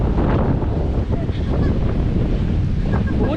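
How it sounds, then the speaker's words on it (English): Strong gusting wind buffets the microphone on the cliffside walkway of the Caminito del Rey in Spain, a loud, continuous low roar with no break. "And it suddenly gets a lot windier."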